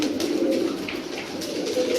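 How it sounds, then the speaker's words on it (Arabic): Pigeons coo softly and continuously while feeding outdoors, a low throaty murmur from several birds close by, with faint higher chirps scattered over it and no talking. "شوف هاي الطيور جاي تاكل."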